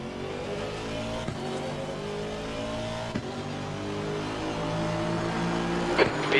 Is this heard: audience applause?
no